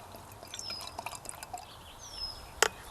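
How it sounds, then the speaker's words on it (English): Dark bourbon barrel-aged brown ale from Double Mountain, a 16-ounce bottle, pours softly into a glass, a quiet trickling and gurgling ending in a brief clink, close and faint. "Get a nice pour on there."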